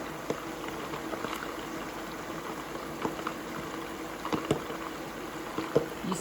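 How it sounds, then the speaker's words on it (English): Hot oil sizzles and spits while meatballs fry in a home kitchen, a quiet continuous crackle broken by occasional sharper pops. "See how the oil splashes?"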